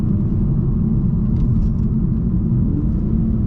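A Volvo S60 T6 drives along the road. Its cabin is filled with a loud, steady low rumble of engine and road noise that holds unchanged throughout.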